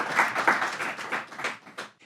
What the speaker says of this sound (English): Let's give a big round of applause to Andrew Hill.